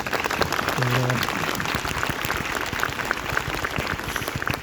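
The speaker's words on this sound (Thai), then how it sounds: "ขอเสียงปรบมือ" A crowd at a fan meeting claps in a loud, continuous wash of applause, with a brief tone and some voices mixed in underneath.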